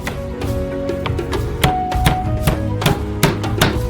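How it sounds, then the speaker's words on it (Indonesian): Peeled garlic being chopped with a knife on a board, steady rapid close taps repeating in an even rhythm with no talking. "Kupas bawang putihnya. Potong-potong."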